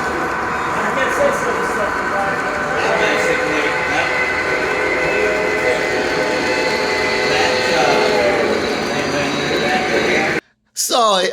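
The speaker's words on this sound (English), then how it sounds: "I really did catch Union Pacific Power here in Thurmond, so here's the real train I caught." A Union Pacific freight train rolls through Thurmond, West Virginia, a loud, continuous rumble with ringing, squealing wheel tones, close by and steady, before a brief sudden dropout near the end.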